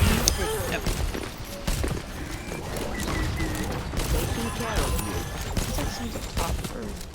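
Turrets fire in a fast-paced team shooter video game, a dense, continuous rattle of rapid shots and impacts that runs the whole time beneath talking players.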